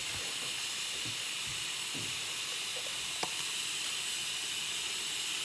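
Pot roast meat with potatoes sautéing in a pan after black pepper is added, a steady close hiss of sizzling with faint clinks, no talking.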